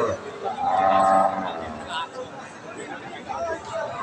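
A young Friesian dairy heifer lows at a busy cattle market, a drawn-out moo rising then fading, with crowd chatter and people talking throughout.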